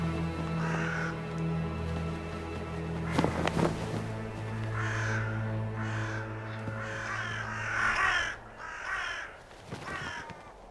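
A mob of crows caws repeatedly in a wild mountain-and-lake setting, harsh calls rising in bursts across the scene over a steady low rumble of wind or water.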